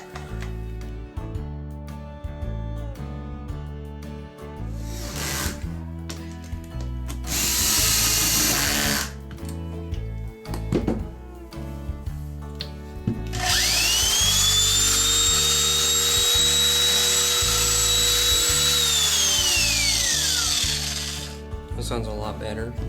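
An Oster Clipmaster cattle clipper motor runs after repair, with a steady, loud mechanical whine and drill-like buzz that starts, stops and restarts across the clip, mixed with other noises.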